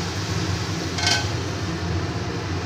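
Metal lid set down on a cooking pan while vegetarian Bengali kakrol (spiny gourd) simmers in a little water: one brief clinking clatter over a steady hiss of cooking.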